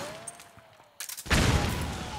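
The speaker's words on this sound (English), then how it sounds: "Shotgun." Loud shotgun blast in the video game Metal Gear Solid 4, a sharp burst followed by a dense rumbling roar of further gunfire that fills the rest of the moment.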